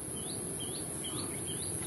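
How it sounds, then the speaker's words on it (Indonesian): A black drongo calling outdoors: a repeated rising whistled note, about five times at a steady rhythm, moderately distant over a constant high insect drone and background hiss. "burung apa itu, seri gunting hitam"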